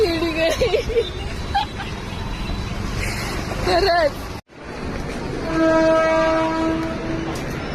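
A train pulls into a station with a loud rumble and clattering wheels, and a sustained horn sounds near the end. Voices and bustle are heard under it in the first half.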